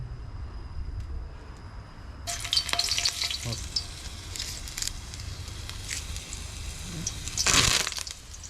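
Oil is added to a hot wok while preparing South Indian mutton sukha. After a quiet start comes a sudden broadband sizzle with scraping, then a louder burst near the end, with no talking.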